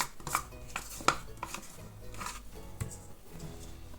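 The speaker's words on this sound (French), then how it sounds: "Je vais mélanger." Batter with baking powder, sugar and vanilla sugar for children's snack rolls is mixed in a bowl, giving quiet, scattered utensil knocks and clinks against the bowl, with no voices.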